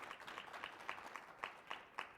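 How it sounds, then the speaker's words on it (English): Faint, thin applause from a small audience welcoming panelists at a housing discussion, with a few distinct claps standing out from the quiet patter. "please, if we can give them a round of applause to welcome them"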